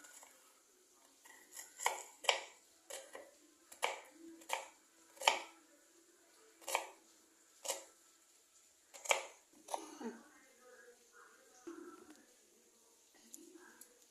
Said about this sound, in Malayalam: അങ്ങനെ പൊടിപ്പൊടിയായിട്ട് സവാളയും പച്ചമുളകും അരിഞ്ഞു.